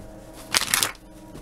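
A deck of oracle cards is shuffled during a card reading, heard as one short, crisp riffling burst under half a second long, close by, with a quiet room around it.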